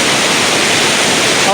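Class 5/6 river rapids rushing loudly and steadily, a dense, unbroken roar of whitewater heard close by with no other sounds.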